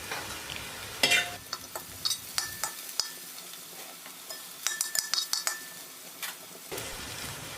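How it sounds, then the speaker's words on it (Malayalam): Pork with onion and turmeric powder is stirred in a pan for a Kerala-style pork roast, giving scraping and clinking utensil strokes in irregular bursts over a soft sizzle. "മഞ്ഞൾപ്പൊടിയും ചേർത്ത് നന്നായി ഒന്ന് ഇളക്കി കൊടുക്കുക"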